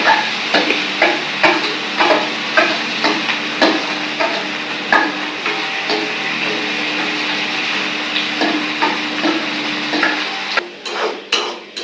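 Cumin and asafoetida spices frying in hot oil in a pan while a utensil stirs them, giving a steady close sizzle broken by frequent wooden scraping and tapping knocks throughout, with no talking.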